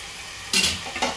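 A spoon stirs chicken curry in a hot pan, two quick scraping swishes over a steady sizzle, close by and with no voices.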